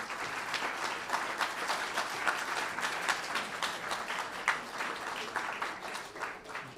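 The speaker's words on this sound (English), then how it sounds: "So let's give a round of applause" An athletic banquet audience claps for the support staff, soft and fairly distant, a sustained even round of applause.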